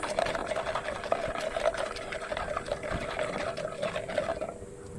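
Neem oil being stirred into water for a homemade plant spray, a steady sloshing, swirling liquid churn that runs continuously and close by, with a faint mechanical hum underneath and no speech.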